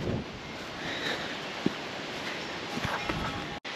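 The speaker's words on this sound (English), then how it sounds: "It's very windy out here" Strong wind blowing outdoors at a farm, a constant broad rush buffeting the microphone, with a few faint thumps and footsteps beneath; steady and fairly loud throughout.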